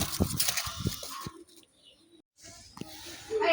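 Colored Rajgolla pigeons coo in a few low, throaty bursts close by, mixed with light rustling and a brief quiet gap, with no talking over them.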